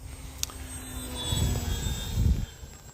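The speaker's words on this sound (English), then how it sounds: "this is that stick airplane format, and they fly really straight" A small stick-format radio-controlled model airplane flies past outdoors, its faint propeller engine drone swelling briefly and fading within a few seconds amid light wind noise, with no talk.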